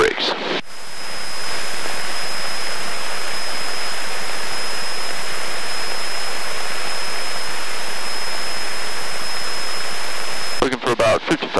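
A Cessna 172 engine at full power during its takeoff roll on a cold day roars as a loud, steady broadband drone heard from inside the cabin, with a thin constant whine above it and brief clatter at the end.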